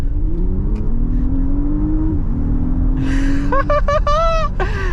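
2025 Audi SQ5 performance SUV accelerating hard, engine drone climbing steadily in pitch, then a burst of rapid gear changes with sharp rising revs near the end, loud and close.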